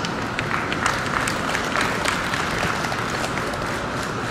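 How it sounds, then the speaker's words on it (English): Spectators at the Midwest Spring National 2016 cattle show give a junior champion heifer class a dense, even round of clapping, a continuous crowd wash without pauses. "Give these exhibitors one more round of applause."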